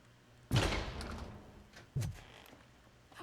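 In Robocop: Rogue City, a door bangs open with a heavy thump and low rattle, followed about a second and a half later by a second, softer thud, with no talking.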